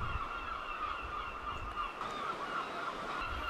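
Seagulls call continuously in the distance in Wales, a steady high, faint chorus of honking cries over low rumbling background noise.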